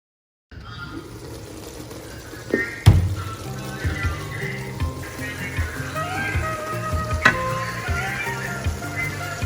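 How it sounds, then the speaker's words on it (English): Water running and splashing into a pot of fufu and eru cooking on the stove, a steady pouring and sizzling wash with a sharp clank near the start and faint talk underneath. "I think I'm going to add a little bit more water so you can cook down"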